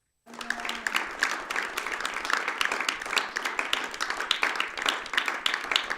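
A church congregation bursts into loud, sustained applause and clapping for the Lord, many hands rattling together in a dense, steady roar that carries on throughout.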